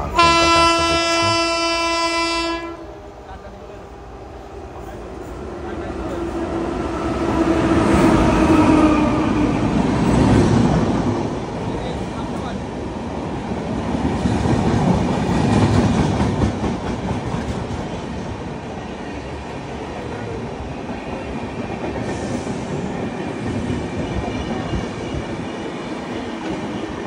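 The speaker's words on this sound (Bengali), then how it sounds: "তো আমরা ট্রেনটাকে আসতে দেখছি" The Kandari Express pulling into Uluberia station: a long, loud horn blast opens, then a swelling rumble and rhythmic clatter of wheels and carriages rolls past nearby for over twenty seconds.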